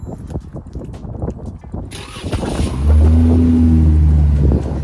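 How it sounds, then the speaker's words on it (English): A Dodge Charger with an aftermarket exhaust cold-starts nearby, its engine catching after a few seconds of handling noise and settling into a loud, steady low rumble that holds to the end. "Get the cold start for you guys."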